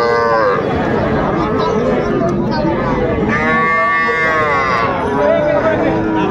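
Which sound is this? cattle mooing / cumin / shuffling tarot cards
cattle mooing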